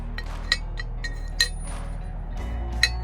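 Metal bolts clink a few times, sharp and close, while a bed extender goes onto a Honda Acty kei truck, with a quiet, steady background hum between the light impacts.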